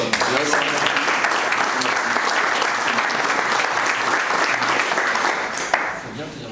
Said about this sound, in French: vous allez pouvoir l'applaudir